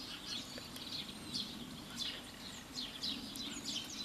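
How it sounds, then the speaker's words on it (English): Birds sing and chirp outdoors on rural land on a rainy morning after a storm, a series of bright repeated calls rising over a steady wet background hiss. "listen to those birds."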